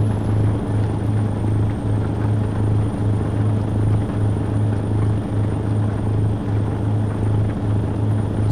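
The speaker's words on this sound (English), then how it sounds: "I see a helicopter above, which usually means probably an accident" Helicopter in American Truck Simulator, a steady low rotor drone holding level throughout alongside continuous truck engine and road rumble, with no talk.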